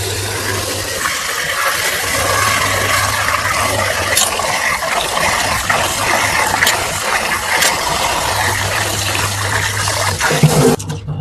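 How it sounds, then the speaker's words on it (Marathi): Water poured over soaking wheat grains to rinse them, a continuous rushing fill with faint clicking mechanical ticks through it, ending in a brief clunk. "परत त्याचं पाणी भरायचं."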